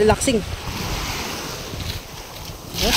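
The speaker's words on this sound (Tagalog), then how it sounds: "Ito tayo sa dagat." Sea waves wash onto a beach on Sibuyan Island, Romblon, Philippines, a steady close surf roar with wind buffeting the microphone and brief voices at the edges.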